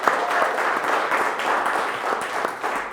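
Steady, even applause from an arts festival audience fills a short stretch, many hands clapping together at moderate loudness with no break.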